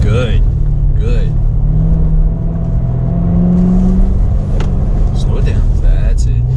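A Chevrolet Corvette C7 Z06 on an autocross slalom course gives a loud, steady engine rumble that swells under acceleration, while a person talks over it throughout.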